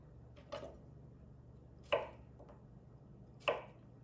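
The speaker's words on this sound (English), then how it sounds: "I'm going to slice diagonally or horizontally in about a 1/4 inch wide" A knife cuts a cucumber into quarter-inch slices on a board, three crisp separate chops spaced over a few seconds, faint and close in a quiet room.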